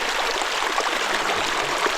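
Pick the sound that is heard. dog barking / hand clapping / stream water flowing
stream water flowing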